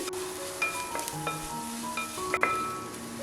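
Onions and green chilies sautéing in a pan for a Kerala-style chicken stew, a steady soft sizzle with a few light clinks and stirring scrapes, close and without talk.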